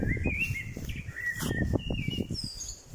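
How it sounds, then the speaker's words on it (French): Several birds sing and chirp outdoors in a quiet garden on a cool, grey day, bright whistled phrases repeating over a steady low background rumble. "voilà, le chant des oiseaux"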